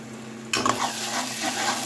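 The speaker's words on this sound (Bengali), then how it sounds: "লো হিটে মাঝে মাঝে ঢাকনা খুলে নাড়াচাড়া করে আমি মশলাটা কষিয়ে নেব।" Spice masala for a chital fish curry is stirred in a pan on low heat: a quiet start, then a sudden sizzle and frying hiss with a few scraping stirs, simmering steadily close by with no talk.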